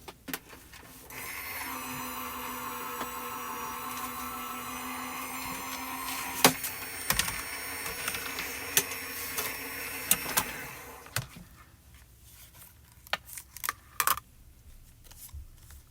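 A Gemini Junior die-cutting and embossing machine runs a thick embossing folder and shims through its rollers, giving a steady mechanical whir with a rising tone for about ten seconds, punctuated by clicks and knocks, then a few handling taps after it stops.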